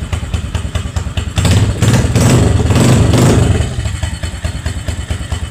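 A Sinski 150 motorcycle engine runs close and loud, rising into a sustained rev in the middle before settling back to a rough, thumping idle.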